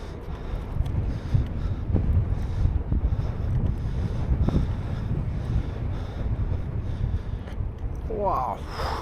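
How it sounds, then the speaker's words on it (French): Strong headwind buffets the microphone of a cyclist gravel riding through farmland in Loir-et-Cher in low, gusty rumbles, with a few brief voice sounds near the end. "Le vent de face là, il est pas cool."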